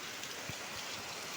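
Heavy sudden rain pours down, a dense, steady hiss of drops on surfaces that fills the whole moment without a break.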